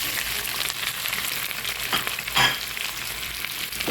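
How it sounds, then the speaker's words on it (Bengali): Continuous crackling sizzle of onions frying until brown in a frying pan for hilsa fish dopiaza, with occasional stirring scrapes, close and steady, no voices. "এখন ওই ফ্রাই প্যানে আমি পেঁয়াজ ভেজে নেবো"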